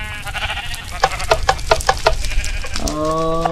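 Sheep in the Minecraft video game make a quick, evenly spaced run of short bleats in the middle, followed by a longer, higher tonal sound over steady game background noise.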